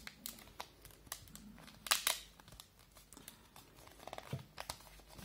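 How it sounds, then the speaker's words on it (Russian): Hands unpacking a Kingston DataTraveler Kyson 128GB USB flash drive from its plastic packaging without scissors: quiet, close crinkling, tearing and crackling in irregular bursts with a few sharper snaps, and no voices. "Дальше будет распаковка."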